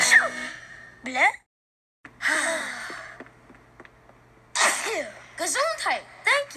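A cartoon-style sneeze punctuates a short animated scene, arriving as a sharp burst amid breathy gasps and squeaky vocal sounds, with brief pauses of near silence between the bursts.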